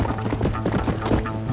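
Horse hooves clop in the video game Red Dead Redemption, a quick irregular patter of hoof strikes at moderate level over a busy background, with no voices.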